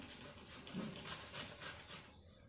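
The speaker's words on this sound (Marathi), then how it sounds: "आता सर्वात आधी आपल्याला इथे बटाटा किसून घ्यायचा आहे तर मी इथे बटाटा किसून घेते" Potatoes being grated by hand for sabudana vada, a soft rhythmic rasping scrape repeating several times in quick strokes, close and fairly quiet with no talking.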